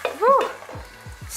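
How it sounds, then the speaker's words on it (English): Potatoes fry in a pan while being stirred, a close sizzle with scraping movements and a short tonal squeak near the start. "I'm just going to add in the potatoes now and cook it until it's nice and soft"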